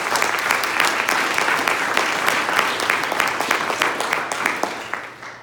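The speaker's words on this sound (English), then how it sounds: "Let's give Kim a round of applause." Audience applause for Kim at a Central Committee meeting, a dense steady clapping from a room full of people that holds for several seconds and fades slightly at the end, with no talk over it.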